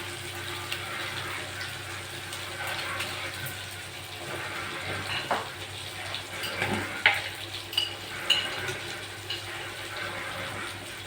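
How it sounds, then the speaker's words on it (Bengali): Spice masala with Kashmiri chilli sautéing in a pan, a moderate steady sizzle with occasional stirring scrapes and a few louder bursts toward the end. "ভালো করে মশলা আমরা কষে নেবো একটু কাশ্মীর লঙ্কা দিয়ে দেবো"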